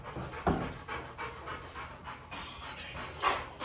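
Two excitable dogs pant in quick rhythmic bursts close by, fairly quiet, with no talking over them.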